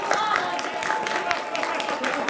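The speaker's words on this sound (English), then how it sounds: "Round of applause to the person that made that fail." Audience applause at a live multiplayer game show at a convention: steady dense clapping with some crowd noise fills the whole stretch, fairly close and even in level, with voices mixed faintly underneath.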